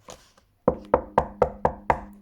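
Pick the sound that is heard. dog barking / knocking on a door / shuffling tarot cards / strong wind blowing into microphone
knocking on a door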